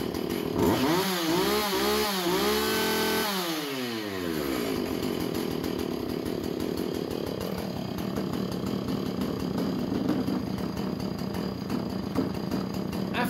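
A 445 chainsaw starts with uneven RPMs, revving up and down in several rough surges before settling into a steady, loud, buzzing run close by.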